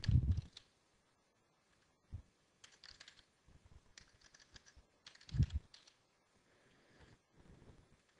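Credentials being typed on a computer keyboard in a quiet room, scattered light key taps in short bursts with a couple of heavier thumps and pauses between, close and without talking.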